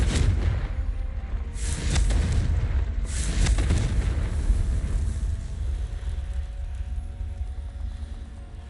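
A Confringo blasting spell detonates in Hogwarts Legacy with deep, rumbling explosive booms, two stronger blasts early on. A long low roar trails off beneath them, and no one speaks.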